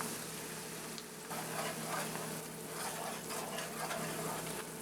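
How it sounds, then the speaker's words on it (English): Onions and garlic frying in butter in a cast iron skillet, a steady close sizzle and crackle that runs throughout, swelling slightly partway through, with no talk. "we cook the onions and garlic together until the onions begin to caramelize"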